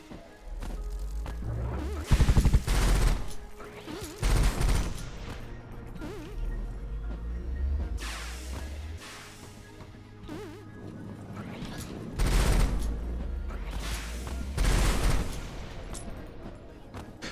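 Shots from the starting gun in the video game Rusted Moss come in bursts of punchy low impacts, repeated several times over a quiet buzzing game background.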